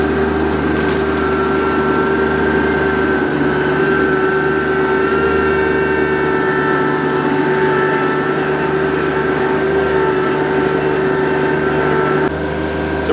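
A PTO forestry mulcher on a very small tractor shreds brush, its engine and rotor drone holding steady and loud throughout, with occasional rattles of material passing through.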